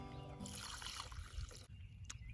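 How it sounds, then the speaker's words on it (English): Water poured onto newly planted heirloom tomato seedlings in soil, a soft, faint trickle and splash heard up close. "I'm going to add some water."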